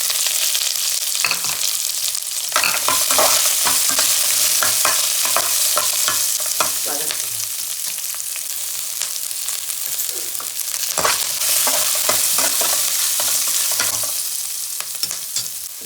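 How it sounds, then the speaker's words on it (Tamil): Onions frying and being stirred in a pan over steady, close sizzling, with repeated scraping strokes throughout, during preparation of Tamil coriander rice after mustard seeds, chana dal and urad dal have gone in. "இப்போ வெங்காயம் போடுறேன்."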